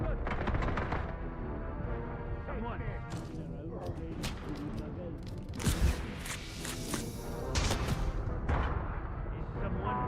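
Rapid enemy gunfire in the video game Atomfall, with sharp bursts of shots under ongoing game noise and effects, growing denser and louder midway through.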